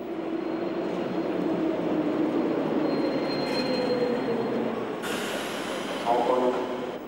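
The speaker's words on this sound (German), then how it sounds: "Die Gleise 1 bis 4 sind der Hamburger S-Bahn vorbehalten." A Hamburg S-Bahn train rumbles at a busy station platform, a steady loud roll that turns into brighter metallic hissing and squealing near the end.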